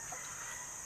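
Farm chickens, including young birds, cluck briefly in a short burst against steady background noise, with no talking.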